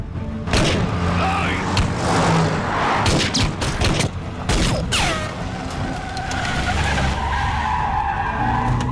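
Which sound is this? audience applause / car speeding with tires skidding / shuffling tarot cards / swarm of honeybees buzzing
car speeding with tires skidding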